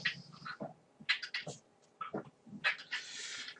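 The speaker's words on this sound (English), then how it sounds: "my little cat has been pretty sick the past few days. And she's trying to throw up now." A small sick cat tries to throw up, giving a series of close, moderately loud retching heaves and gagging vocal bursts in uneven spurts, ending in a longer strained gag.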